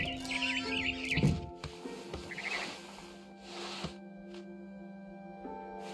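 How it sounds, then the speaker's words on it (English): A barn swallow chirps outside a window in the game What Remains of Edith Finch, giving a few short, high, scattered calls over a quiet, hushed interior backdrop. "Then I heard chirping outside my window. It was a barn swallow going back to her nest."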